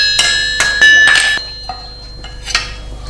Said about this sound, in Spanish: Golpeando uno con el martillo pequeño y otro con el mallo, el hierro del barrón se va estirando.